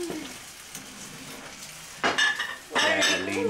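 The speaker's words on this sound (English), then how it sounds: "Cooking dumplings." Dumplings being cooked in a kitchen, with pots and pans knocking and clinking and a low sizzle, two louder bursts of clattering near the end over a steady background hiss.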